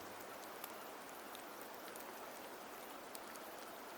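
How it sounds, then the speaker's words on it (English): Steady rain falls in the video game Rust, Sword and the Sun, a soft, even wash of drops with a few faint ticks, quiet and unbroken. "The rains in Septimont never seem eager to leave this season"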